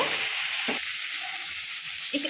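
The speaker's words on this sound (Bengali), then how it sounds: "টমেটোটা দেওয়ার পর আরও কিছুক্ষণ আমরা ভালো করে ভেজে নেব" Ginger, garlic and chopped tomato frying in a pan, a steady close sizzle broken by a couple of quick spatula scrapes.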